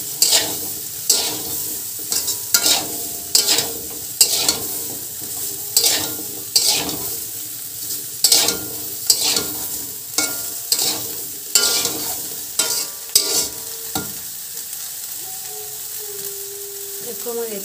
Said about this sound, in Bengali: দেখো আমার এটা ভাজা হয়ে গেছে। সয়াবিনের আলুটা